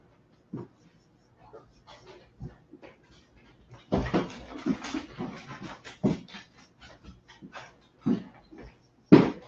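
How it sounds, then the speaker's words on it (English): A puppy whines and whimpers indoors in a kitchen, in short scattered bursts with pauses between, some louder yelps and pants, fairly close. "Max, the whining puppy that you can't see"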